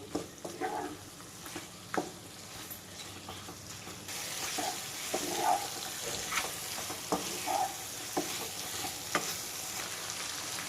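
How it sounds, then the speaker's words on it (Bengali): Bottle gourd being stirred and fried with spices in a pan for lau shukto, a continuous quiet sizzle punctuated by occasional scraping and knocking of the spoon, louder and hissier in the second half. "এখানে মশলার সঙ্গে লাউ আমি খুব ভালোভাবে কষিয়ে নিয়েছি।"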